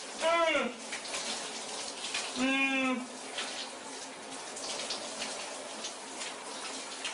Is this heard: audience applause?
no